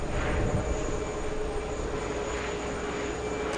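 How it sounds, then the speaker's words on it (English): An American Airlines Boeing 737 taking off from runway 4 Left at JFK produces a steady, broad engine roar with a faint high whine, heard from a distance and unchanging throughout, with no talking. "737, another 737, American Airlines taking off on 4 left."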